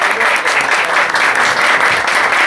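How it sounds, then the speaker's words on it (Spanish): Sustained audience applause for the first contestant at a drag talent show in a Moulin Rouge venue, a dense steady clatter of many hands clapping at close range with no pauses throughout. "Aplausos, chiquillos, para el concursante número uno"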